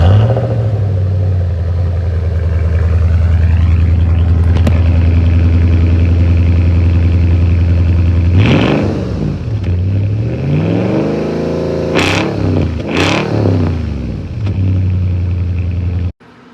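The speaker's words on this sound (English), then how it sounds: "I'm going to crank it up and let you hear before and after" A 2012 Toyota Tundra's 4.6 liter V8 fitted with aftermarket headers idles with a steady, loud rumble, then revs up sharply several times, each rev swelling and falling back to idle.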